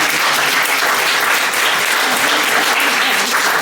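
Loud, steady applause from a large audience, dense clapping that holds evenly throughout without pause.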